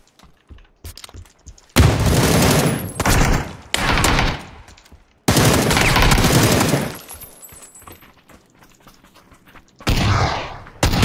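Shotgun fire in a battle royale video game: loud, close, heavy blasts and bursts of gunfire come in several separated clusters, broken by brief quiet gaps.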